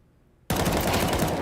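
Video game gunfire bursts in abruptly after brief quiet, a loud rapid automatic volley that continues to the end without pause.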